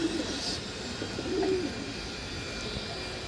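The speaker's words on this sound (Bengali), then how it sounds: "এই যে দেখেন অনেক সুন্দর একটা মাদি কবুতর" A female pigeon coos softly, giving a couple of low, brief calls that sit faintly within steady background noise.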